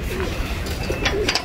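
Pigeons cooing close by while eating grain, a few soft throaty coos over a busy background of rustling and pecking.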